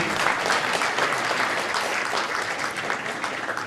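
A comedy-show crowd at the Kennedy Center's Millennium Stage claps steadily for a performer, a full, even roar of applause holding at a consistent level throughout, with no speech on top.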